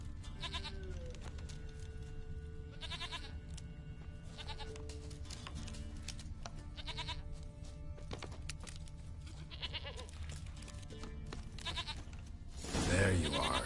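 Goats bleat repeatedly in The Witcher 3: Wild Hunt, several wavering calls spaced across the scene over a low ambient drone, with a brief louder burst at the end.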